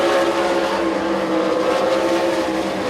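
Sprint cars race around the Dixie Speedway dirt track, a dense, loud, continuous engine howl with steady high-pitched tones and no gaps, heard from the stands without any talking.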